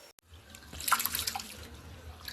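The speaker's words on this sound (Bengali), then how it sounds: "দেখো চালগুলো ধুয়ে নিচ্ছে।" Rice grains being washed in water in a home kitchen, a soft close sloshing and trickling of water with small splashes, fairly quiet and without talk.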